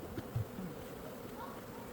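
Honeybees buzz around a hive as robber bees from another colony raid it, a faint, steady low drone with no voices.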